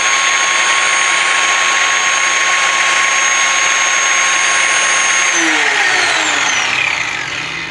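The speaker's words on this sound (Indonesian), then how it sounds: "88 desibel. Cukup berisik sih, cukup berisik, tapi gerinda emang" Black & Decker G650 angle grinder running at full speed, a loud high whine that holds steady, then pitch sweeps downward as it spins down near the end.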